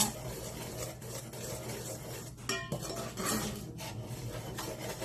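A utensil scrapes and clinks quietly against a pot while stirring soup in a steady motion, with a soft hiss of background noise.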